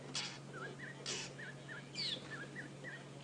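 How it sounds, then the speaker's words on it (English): Faint birds call in the open at dusk on a safari drive: a couple of short bursts of chatter over repeated soft, whistled notes, against a quiet background hum. "they're the very last diurnal birds that you'll hear"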